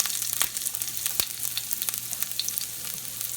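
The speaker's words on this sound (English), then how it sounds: "into the pan goes the oil. And as the oil heats up, I'll add the garlic" Garlic frying in hot oil in a pan for a chicken satay sauce: a steady close sizzle with crackling pops and a few sharper clicks of stirring, continuous throughout with no voices.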